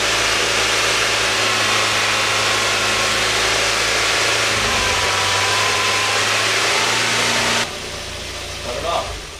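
A Mazda Miata engine idles loudly up close with a steady low hum and broadband roar, then drops away abruptly near the end, leaving quieter background noise.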